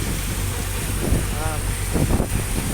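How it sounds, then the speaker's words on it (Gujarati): Cold wind blowing before rain, a constant broadband rush and buffeting against the microphone, with a voice speaking briefly over it. "અત્યારે ઠંડો પવન આવે છે"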